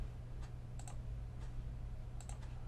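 Mouse clicks in Blender software come as a few light, sharp taps, some in quick pairs, over a steady low hum in a quiet room without speech.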